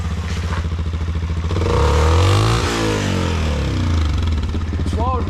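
Yamaha WR125R motorcycle engine revs up loudly and steadily, rising in pitch and settling back with a continuous close-up drone, while a voice speaks briefly near the end.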